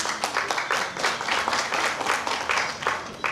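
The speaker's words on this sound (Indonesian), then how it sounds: "Tepuk tangan dulu." Audience applause at a large family clan assembly in Tonsea, with loud, clearly separated hand claps from a crowd in an uneven, lively rhythm, close and prominent.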